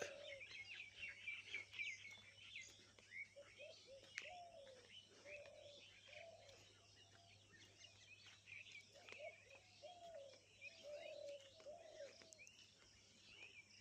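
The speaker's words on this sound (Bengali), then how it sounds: "দেখো পাখির ডাক," Small birds chirp and call repeatedly in a misty early-morning village among rice fields, faint and somewhat distant, with quiet speech in the background.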